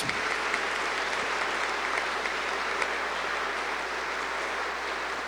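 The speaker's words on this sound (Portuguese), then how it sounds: "Aplaudamos a palavra de Deus." A church congregation at Mass breaks into dense, sustained applause that holds at an even, steady level throughout, with no speech.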